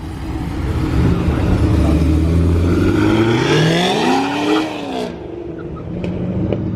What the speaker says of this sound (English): late model Racecraft 1000 horsepower CTSV headed out